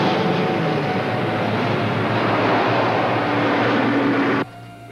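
A helicopter roars overhead as a radio drama sound effect, a loud, steady rumbling wash that holds throughout before dropping off abruptly near the end.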